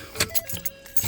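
Keys jangle as they are pulled out of a car, several quick metallic rattles spread across a brief moment, close and fairly loud.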